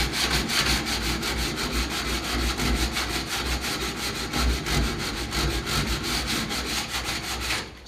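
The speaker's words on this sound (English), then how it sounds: "So I just use my used DA disc because often the center is still pretty good paper." Used DA sanding disc rubbed by hand over a rusty fan shroud from a 1966 Ford Galaxie 500 convertible, a fast steady back-and-forth scraping rhythm, close and continuous with no talk.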